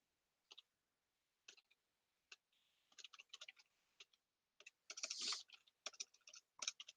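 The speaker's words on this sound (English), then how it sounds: "Excuse the typing, by the way." Quiet typing on a computer keyboard during a podcast recording: sparse clicks, then bursts of rapid keystrokes with one brief louder clatter, close to the mic and with no one talking.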